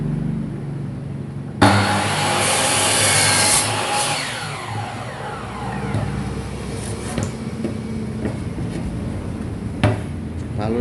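A Stanley SM16 mitre saw making a 45-degree bevel cut on the right: the motor spins up abruptly and then runs as a steady, loud whine while the blade bites through the workpiece, with a brief sharp knock near the end.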